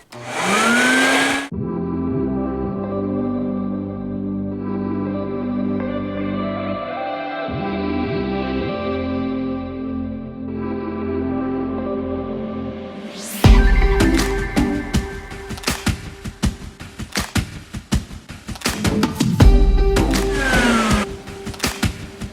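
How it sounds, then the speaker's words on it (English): An upright vacuum cleaner motor whines and drones steadily, then rougher rattling and thumps as it is pushed over carpet. "It is a heavy vacuum"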